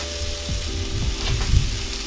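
Chopped garlic and diced potatoes sizzle steadily on a 36-inch Blackstone griddle, a continuous frying hiss with a few soft scraping taps from a spatula, close and moderately loud with no talking.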